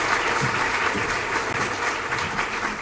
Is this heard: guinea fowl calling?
no